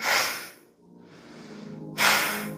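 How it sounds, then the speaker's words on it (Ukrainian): A person does a warming breathing exercise, with two forceful, hissing exhalations through the nose and a quieter breath between them, close to the microphone. "ми будемо інтенсивно робити видих носом"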